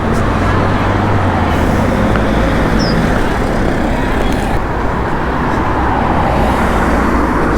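Town traffic with a Wexford bus among the vehicles, a loud steady roadway rumble of engines and passing cars close by, with no talk.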